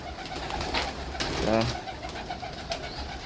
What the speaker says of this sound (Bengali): কবুতরকে পানি দেওয়া শেষ খাবার দেওয়া শেষ